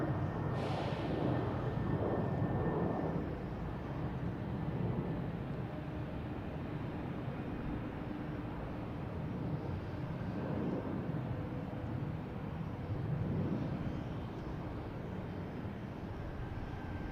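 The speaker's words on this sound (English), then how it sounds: "we've got this Japan Airlines coming in from" A Japan Airlines airliner arriving from Tokyo Narita at Boston Logan makes a steady, loud broadband jet roar that swells slightly at the start and continues without pause. No one speaks.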